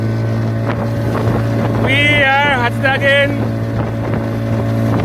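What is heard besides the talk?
motorboat with Parson 40 horsepower outboard engine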